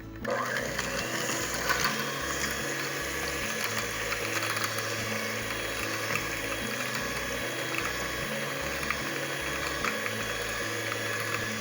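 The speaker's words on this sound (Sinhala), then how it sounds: "බිත්තර සුදු මද 5ට සීනි ග්‍රෑම් 150 එකතු කරලා හොඳින් බීට් කරමු." An electric mixer beating five egg whites with 150 grams of sugar gives a steady, close motor whir with a faintly pulsing, churning rhythm that runs throughout at an even level, with no talking.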